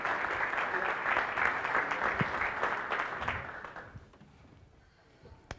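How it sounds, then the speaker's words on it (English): A round of applause from a brewing-industry session audience, dense clapping that holds steady for about four seconds, then fades out into quiet room tone with a few stray claps. "How about a round of applause for Josh and Mikey?"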